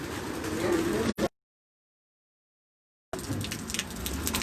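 Paired breeder pigeons coo close by in short low bursts, broken by a sudden two-second gap of silence before the cooing resumes.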